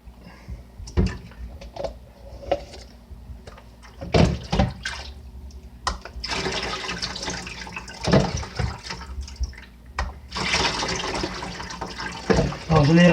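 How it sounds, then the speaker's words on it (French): Tap water runs into a dish basin in bursts, a steady splashing rush broken by short pauses, with clinks of dishes and a few quiet voice sounds at the start. "Donc là, je remplis d'eau celle-là."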